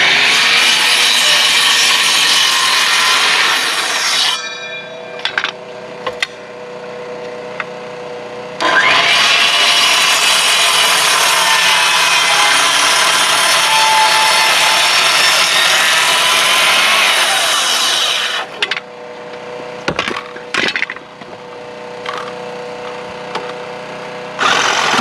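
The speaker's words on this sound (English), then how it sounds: "I take the rest off with the Sawzall, as you can see." A Sawzall reciprocating saw cuts through a wooden board on a cabin build, loud continuous rasping strokes in two long runs separated by brief pauses and short bursts, with no talk.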